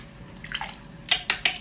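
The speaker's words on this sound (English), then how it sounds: "just dip it back into the water and then tap off the excess water" A makeup brush is dipped into water with a soft, faint swish, then tapped off with four quick, sharp, close taps in an uneven rhythm. No one speaks.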